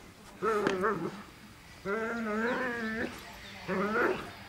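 A dog barks during protection training, giving three bursts of loud, close, harmonic barking and whining. The middle burst is the longest, and the animal is heard alone with no talk.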